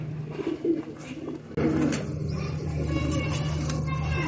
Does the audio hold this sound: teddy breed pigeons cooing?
yes